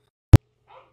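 A single sharp dog bark, loud and close, followed by a faint brief whimper-like sound in an otherwise quiet room.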